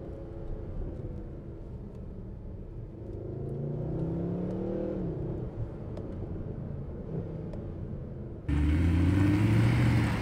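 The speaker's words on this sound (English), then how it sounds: "the noise is just something else. When you downshift, it really is like thunder, this engine." Mercedes SLS AMG engine while driving, a deep low rumble with revs rising and falling under load, heard from inside the cabin, then a sudden louder, harsher roar near the end; no talking.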